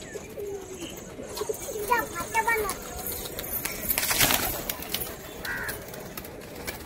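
Kaldom pigeons coo nearby in several soft, rolling calls, with a few sharper bird notes and a voice mixed in against a constant background hiss.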